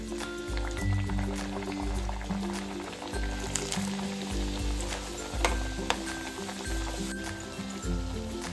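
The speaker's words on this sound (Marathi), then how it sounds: "अशा पद्धतीने आता सगळ्या पुऱ्या आपण इथे फ्राय करून घेणार आहोत." Puris deep-frying in hot oil, a dense, continuous sizzle and crackle that stays loud and close throughout, with occasional spatters and low background hum and no speech.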